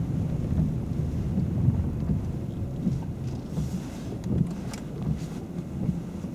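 Rain drums and patters on a car during a driving lesson, a dense, steady wash heard from inside the vehicle, low rumbling and fairly faint, with no speech.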